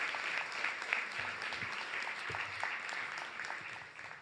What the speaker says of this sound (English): So if you just give them a round of applause